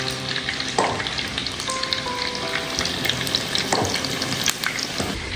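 Tofu frying in a home kitchen pan gives a steady, close sizzle, broken by brief scrapes and clinks as the pieces are stirred and turned.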